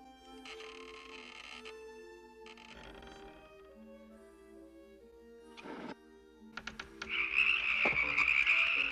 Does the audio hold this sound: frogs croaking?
yes